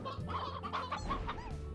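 Stone hens in the video game Slime Rancher cluck in a quick run of close, rhythmic clucks, clear and alone.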